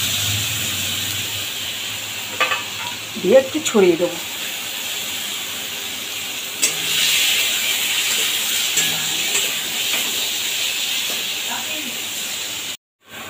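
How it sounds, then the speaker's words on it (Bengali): Spice-coated puti fish frying with onions in hot oil in a kadai, giving a steady broadband sizzle throughout, with a voice talking briefly over it. "এবার দিয়ে দেবো এই মাছটা, মশলা দিয়ে মাখিয়ে রাখা মাছটা"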